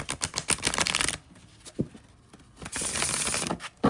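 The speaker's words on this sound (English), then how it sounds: "let's see how this shuffles" A brand-new, slightly stiff glossy tarot deck is riffle-shuffled in two close bursts of rapid flutter-clicks, separated by a quieter pause with a few soft taps and card handling sounds.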